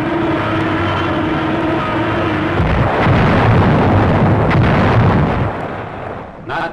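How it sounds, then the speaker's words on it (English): Artillery counter-battery fire in a World War II combat newsreel, heavy rumbling blasts swelling into a loud, dense roar that fades after a few seconds, layered over a droning tonal background typical of old film sound. "Nazi counter-battery fire."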